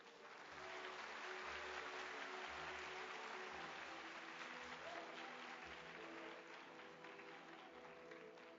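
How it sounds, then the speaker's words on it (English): Sustained applause from a large audience at an international forum lecture, steady and full throughout with a dense crowd clapping that swells slightly and holds without a break. "Please welcome with a big round of applause."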